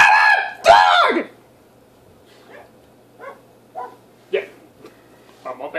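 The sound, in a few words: dog barking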